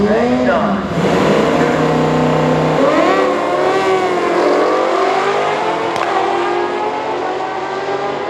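A Suzuki GSX-R motorcycle racing a Hemi Cuda muscle car, with loud, sustained engine roar and rising, revving pitch sweeps close by.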